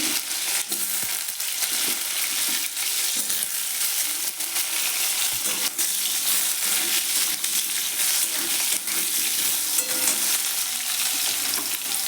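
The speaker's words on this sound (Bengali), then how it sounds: "তেল গরম হয়ে গেছে ভালো করে, এরপর আমি আলুগুলো ভেজে নিচ্ছি" Potatoes fry in hot oil seasoned with dried red chilli and nigella seeds, giving a loud, steady, crackling sizzle that runs throughout, with occasional stirring.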